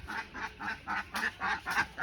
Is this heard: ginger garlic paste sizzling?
no